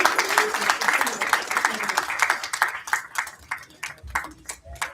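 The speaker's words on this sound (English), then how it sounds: "A big round of applause for this exceptional contribution" Applause at a company town hall award presentation, dense clapping at first that thins out into scattered individual claps fading toward the end, with some talking beneath.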